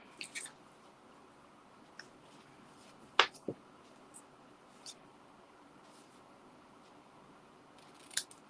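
Scissors trim ribbon at a paper-craft table: a few sharp, isolated snips and clicks spaced over several seconds against quiet room tone, close and fairly faint.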